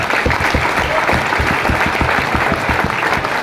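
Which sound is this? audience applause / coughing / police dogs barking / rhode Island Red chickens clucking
audience applause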